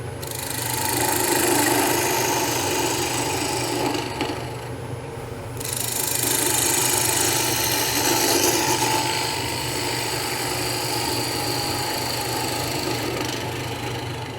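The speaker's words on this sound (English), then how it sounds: "Now we're just going to start hollowing this out." Dry cherry wood being hollowed into a bowl on a lathe, a steady rough scraping and chattering of the tool against the spinning wood that runs continuously and loud, dipping briefly midway before resuming.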